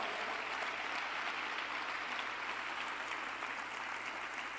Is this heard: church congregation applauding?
yes